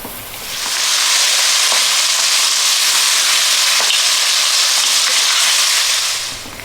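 Onion and garlic fry above medium heat in a stew pot, giving a loud, steady, close hiss and crackle that rises at the start and holds for several seconds before fading, with no talking.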